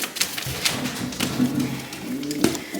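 A rescued male pigeon coos close by in soft, low, throaty, repeated phrases, with some faint rustling between them.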